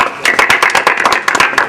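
Crowd clapping to welcome guests with garlands at a ceremony: dense, steady applause made of many overlapping claps, loud and close, running the whole time with no voices over it.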